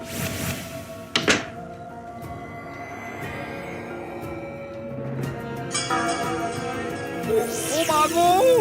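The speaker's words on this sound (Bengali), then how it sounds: "আমাদের দরজা ধাক্কাও দিল" Knocking and pushing on a house door in a Gopal Bhar cartoon, heard as a sharp thump followed by softer knocks with cartoon music and tones around them.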